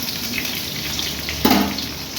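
Diced potatoes and carrots fry in a pan for daliya with a soft, constant sizzle, and a brief louder hiss flares up midway before settling back.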